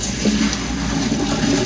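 Cold tap water runs in a steady stream over cooked spaghetti in a kitchen sink, a close, continuous splashing rush with no speech.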